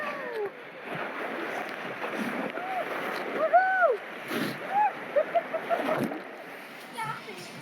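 Riders plunge down Ihu's Breakaway Falls, a water slide at Aquatica water park in Orlando, with rushing, splashing water heard close up under excited whoops and shouts from the riders.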